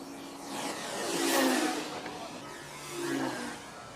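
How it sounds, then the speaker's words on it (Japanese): A U-control model airplane's small glow engine spins its propeller as the wire-flown plane is released for takeoff, a buzzing drone rising and falling twice in loudness over four seconds. "1人がプロペラの回っている飛行機を押さえ、操縦者の合図でテイクオフ。"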